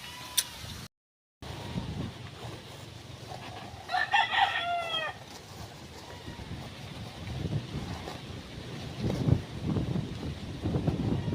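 A rooster crows once, loud and clear, amid a steady outdoor background with scattered clucking and faint rustling.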